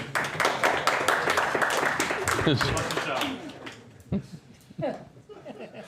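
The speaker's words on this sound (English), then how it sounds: "They were clapping" An audience bursts into quick, rhythmic clapping during a Talmud lecture, loud and close for several seconds before fading into scattered claps, with talk and chuckles mixed in.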